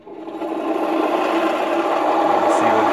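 A Champion hand-crank blacksmith forge blower runs with a steady whirring drone that swells up quickly and holds, with faint mechanical rattle, close and alone.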